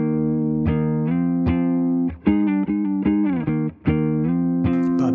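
An electric guitar with heavy distortion plays a riff: a sequence of loud, sustained power chords with short slides and brief gaps, alone and close.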